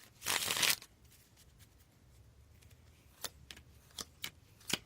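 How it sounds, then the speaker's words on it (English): Tarot cards are shuffled close up, one brisk riffling burst followed by several sharp separate card taps and snaps in a quiet room. "One more shuffle."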